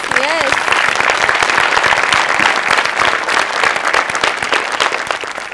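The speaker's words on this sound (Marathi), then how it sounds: "आज आपण ज्युनियर्ससाठी एकदा टाळ्या वाजवूया." An audience applauds the juniors at a Marathi comedy show taping, a loud, steady wall of clapping that holds throughout, with a brief voice at the very start.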